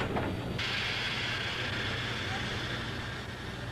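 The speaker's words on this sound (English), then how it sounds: "On the ride to Temple Station today, our locomotive is the Baldwin 425." Baldwin 425 steam locomotive, with 69-inch drive wheels, hauling a passenger train toward Temple Station on a Pennsylvania shortline, a steady low rumble and hiss of rolling stock heard from on board, continuous and fairly quiet.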